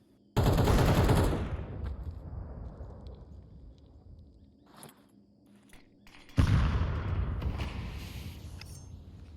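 Counter-Strike gunfire through a wall toward the B site during a competitive match: one loud burst of shots, then quieter activity, then a second sharp volley, with no talk over it.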